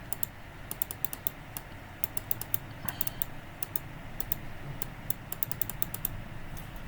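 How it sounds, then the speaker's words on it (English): Rapid mouse and keyboard clicks patter steadily during a game, crisp and close in irregular quick bursts over a low hum, with no talking. "I'm clicking so early there"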